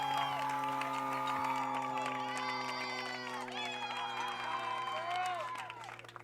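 Crowd at a high school varsity softball game cheers and whoops after a two-run home run, a steady roar with shouts and some clapping heard from a distance, with announcer-style talk mixed in.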